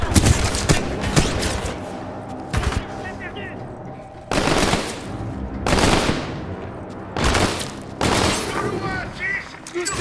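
Loud bursts of automatic gunfire in the shooter Titanfall 2, several rapid volleys separated by short pauses, with game noise filling the gaps.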